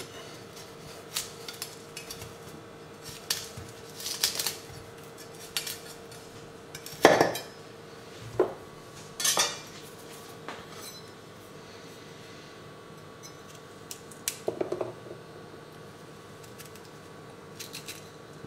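A knife cuts broccoli into large florets on a board, a few sharp chopping knocks and clinks standing out over a quiet kitchen background, with no talking.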